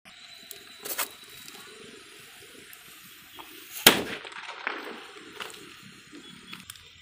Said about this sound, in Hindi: सबसे पहले इस छोटे वाले बिजली बम से स्टार्ट करते जलाना।